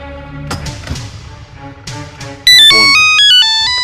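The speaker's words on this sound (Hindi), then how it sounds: "फोन।" A phone ringtone breaks in loudly partway through, a bright electronic melody of stepped beeping tones that follows quieter background sound in an indoor scene from a Hindi family drama.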